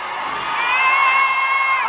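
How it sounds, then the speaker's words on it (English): Loud crowd at a DVSN concert in Atlanta, cheering and whooping continuously with shrill voices riding above a dense roar, close and sustained throughout. "This is the loudest crowd you've been to."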